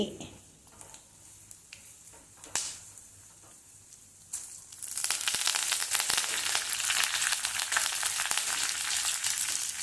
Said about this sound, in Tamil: அப்புறமா கறிவேப்பிலை, பச்சை மிளகாய் போட்டு கரியாமல் வறுக்கணும்